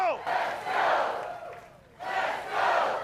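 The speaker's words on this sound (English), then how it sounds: "A packed gymnasium crowd fired up by Senator Tim Scott's big announcement Monday." A packed gymnasium crowd at Charleston Southern cheers and yells at a presidential campaign launch, rising in two loud swells of roaring shouts with a brief dip between.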